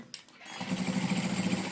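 Sewing machine stitching a seam on a fabric dish carrier, a steady rapid motor whir with a regular stitch pulse that starts after a brief pause and runs evenly, close and fairly loud.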